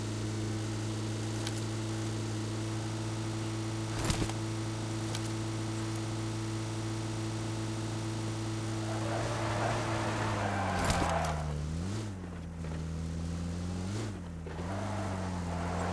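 A car driven in a battle royale video game gives a steady low engine drone with a constant hum for most of the stretch, then its pitch wavers and dips a few times near the end. No voices.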